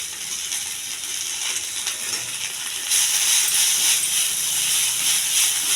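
Mint and coriander leaves fry in a pan with a steady, bright hiss that grows louder halfway through, without talk.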